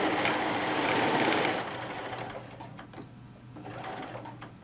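A sewing machine stitches a tote bag panel using a short stitch length, running in a fast, even mechanical rattle for about a second and a half, then slowing into sparse clicks and short bursts, close and fairly quiet.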